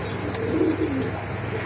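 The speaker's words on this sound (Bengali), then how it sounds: "আরেক জোড়া কবুতর মাশাআল্লাহ" Big desi pigeons of spangle colour, a pair, coo softly in low murmuring tones, steady and close against a faint background hum.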